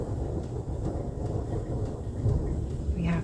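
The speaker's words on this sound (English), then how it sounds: "we have thunder happening right now outside my window" Low, continuous thunder rumbling outside a window, a broad steady roar that swells slightly toward the end with no voices.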